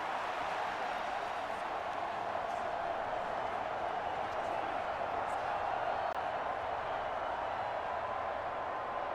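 A stadium crowd roars steadily throughout a Madden NFL 25 football game between the Indianapolis Colts and Denver Broncos, a dense, continuous wash of cheering and applause at even loudness with no breaks.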